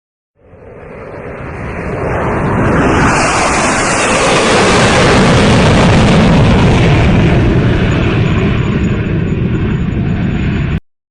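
F-35 fighter jet with its internal weapons bay open roars past, a loud, sustained rushing jet noise that swells over a couple of seconds and holds steady for about eight more before cutting off, with no speech.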